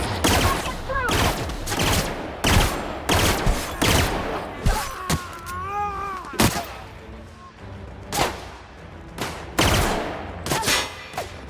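Gunfire in the sci-fi video game The Outer Worlds: rapid, loud bursts of repeated shots and heavy booming blasts crowd the whole stretch, with a brief wavering electronic whine in the middle and short shouted voices mixed in.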